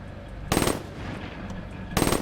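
A gun in Black Ops 3 with the jitter mod switched off, firing two short bursts of rapid automatic shots about a second and a half apart over quiet game ambience.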